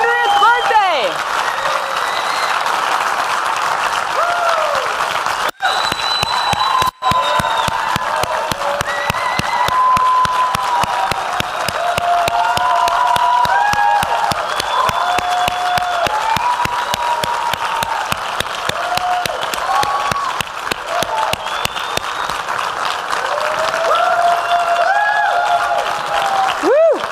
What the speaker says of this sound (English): give him one more round of applause for that